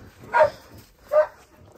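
A herding dog, an Australian Shepherd and Border Collie mix, gives two distinct barks about a second apart at moderate distance on a farm, with quiet background between them.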